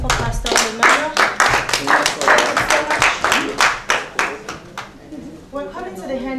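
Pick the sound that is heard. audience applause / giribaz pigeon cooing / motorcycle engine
audience applause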